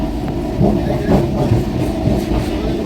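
A train rumbles close by at Ranaghat with rhythmic clattering of wheels on track, loud and continuous, with a few faint voices underneath.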